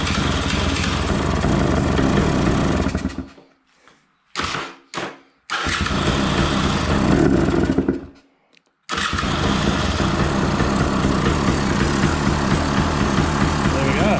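2016 KTM 300 dirt bike with a freshly rebuilt top end and new air filter, started with choke: a loud ragged two-stroke engine that fires, cuts out twice in short bursts, then catches and runs steadily, with a voice briefly heard.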